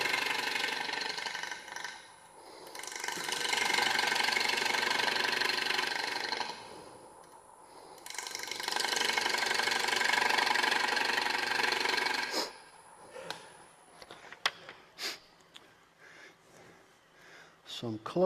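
A gouge cuts into a winged bowl spinning on a wood lathe, giving a steady, loud rough scraping roar in two long passes. Short pauses and a few sharp knocks come between them, and a person talks between the cuts.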